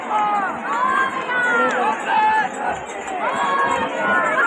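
Dense, steady crowd hubbub at a Ganpati immersion, with overlapping voices, shouts and chatter close by throughout, with no single speaker standing out.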